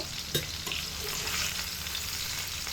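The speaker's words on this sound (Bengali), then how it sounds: "ভেন্ডিগুলোকে মোটামুটি 4 মিনিট সময় ধরে খুব ভালো করে ভেজে নিয়েছি।" Okra (bhindi) fries steadily in a wok with a continuous crackling sizzle, close and fairly loud, plus a few spatula scrapes. No one speaks.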